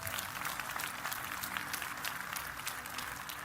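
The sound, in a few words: applause from church congregation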